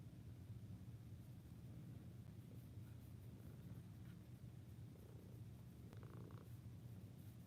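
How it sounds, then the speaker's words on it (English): A cat purring close up, a steady low rumbling purr throughout with a few faint small noises on top. "Can you guys hear him? He's purring."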